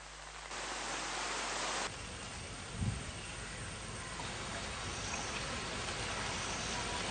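Steady rain pours in a flood-hit rural area during a wet spell, a constant hiss of falling water heard alone with a brief low thump partway through.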